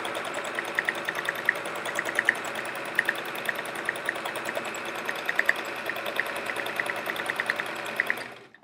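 An electric sewing machine stitches free motion swirl quilting on a chevron quilt, a close, fast steady whir with rapid needle ticking that runs evenly for several seconds before stopping abruptly.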